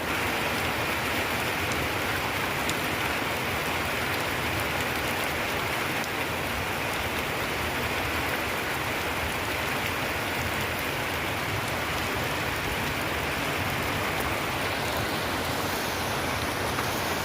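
Heavy monsoon rain in Nepal pours down in a loud, steady, unbroken roar of drops on surfaces, constant throughout with no voices.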